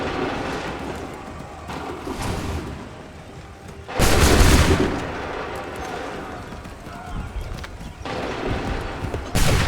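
A musket volley in the Assassin's Creed III video game, one loud, broad booming burst of massed gunfire standing out amid ongoing battle noise, with shouted orders heard around it.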